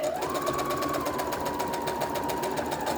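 A sewing machine runs a steady straight stitch through paracord sewn into a fabric face mask, a continuous close mechanical whir that holds the same pitch throughout with no talking.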